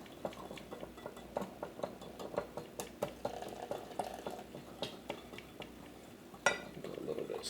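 Creme brulee custard stirred steadily in a pot, a spoon or whisk tapping and scraping the sides in an even, quick rhythm of soft clicks against quiet kitchen background.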